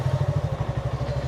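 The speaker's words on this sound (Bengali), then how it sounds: "এখানে বাইকটা রেখে দিব সুন্দর করে" Motorcycle engine idling while the bike is parked, a close, steady low throb with rapid even pulses lasting just over a second.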